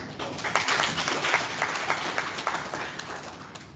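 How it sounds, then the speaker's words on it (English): An audience claps to welcome a speaker at a university biosphere anniversary celebration, dense applause holding steady for several seconds before slowly tapering off. "Please give me a round of applause."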